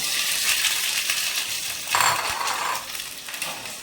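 Chopped onion sizzling in a little oil in a small pan, a steady bright crackle with a brief louder hiss partway through as the pieces hit the hot oil.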